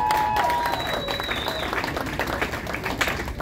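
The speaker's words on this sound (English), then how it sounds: "And one last big round of applause for our owner, Mr. Larry Farber, sitting right over there." Applause fills a live jazz club, a crowd clapping steadily for a couple of seconds, with a few faint tonal whistles or cheers on top.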